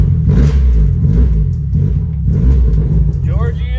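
A Mazda Miata engine, its throttle cable not working, turns over and runs poorly with a loud, rough, uneven rumble and surging revs, close up and continuous, while people talk over it.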